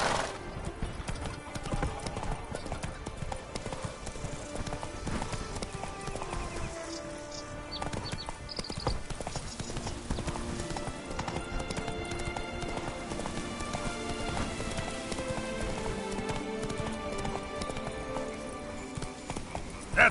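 A horse gallops in The Witcher video game, with rapid, continuous hoofbeats and neighs mixed into dense music and game ambience.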